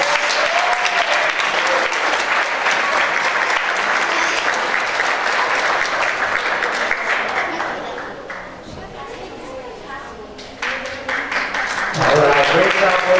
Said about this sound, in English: let's give the principal, Ms. Bethea, a big round of applause